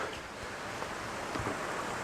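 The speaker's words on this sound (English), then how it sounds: "You might be able to hear the water now." Water flowing over the Lumsdale Falls waterfalls in Derbyshire, a steady broadband rush close to the microphone, continuous and moderately loud with some wind buffeting.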